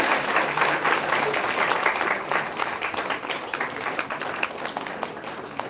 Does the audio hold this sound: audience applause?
yes